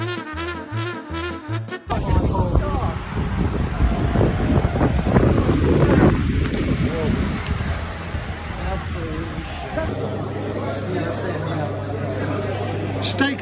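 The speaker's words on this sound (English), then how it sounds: "It's absolutely pouring down with rain." Heavy pouring rain outdoors on a matchday trip, a loud, dense continuous hiss and patter mixed with wind buffeting the microphone, with people talking over it.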